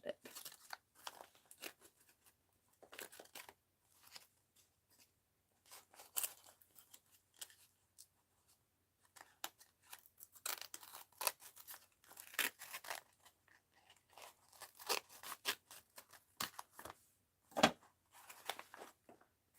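Scissors snip through paper in a mixed-media art journal, a quiet series of irregular cuts and crinkles close by, with soft paper rustling between snips.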